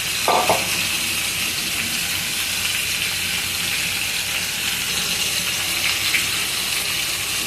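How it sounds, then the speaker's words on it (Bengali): Marinated pieces of large catla fish frying in hot oil give a loud, dense, continuous sizzle and hiss close by, with a short clatter near the start and no voices. "তো এবার আমি মাছটা সুন্দর করে ফ্রাই করে নিব"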